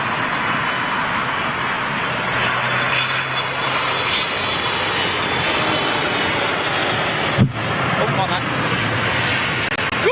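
Loud, steady roar of Boeing 777 jet engines, broadband and continuous, with a brief sharp transient near the end.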